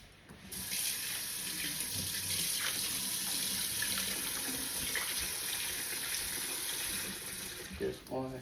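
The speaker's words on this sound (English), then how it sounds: "let me go ahead and wash my potatoes" Potatoes being washed under a running kitchen tap, a steady hiss of water splashing into a sink, moderately close and continuous, with some faint handling sounds and a brief shift near the end.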